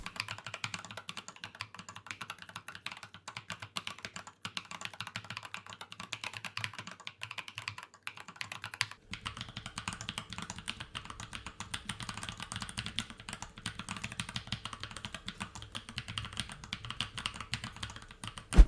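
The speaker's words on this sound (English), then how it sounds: "Sound-wise, they are very similar to our laser-etched keycaps." Fingers type steadily on a keyboard fitted with custom laser-etched keycaps, a continuous patter of soft, close key clicks with no talking.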